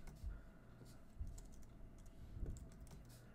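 Quiet, close typing on a computer keyboard as a username is entered, with irregular soft key clicks and a few firmer taps, no speech.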